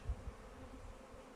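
A steady hum of honeybees at the entrance of a weak overwintering hive, continuous and close, with a couple of brief low thumps near the start and no talk.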